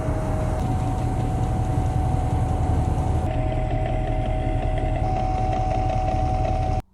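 A slab saw cuts through a thunderegg rock with a loud, steady, grinding machine drone and a sustained whine. The tone shifts slightly partway through, then the sound stops abruptly at the end.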